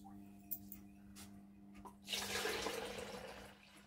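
Water poured or run from a tap to thin paint for mixing a pink colour, a soft rushing splash that starts after a few quiet knocks and fades gently, fairly quiet and close.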